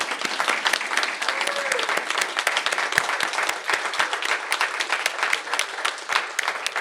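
An audience at the 2023 Olmsted Network Awards presentation gives a steady round of applause, with many hands clapping densely and evenly throughout.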